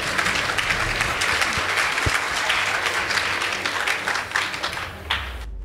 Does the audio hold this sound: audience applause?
yes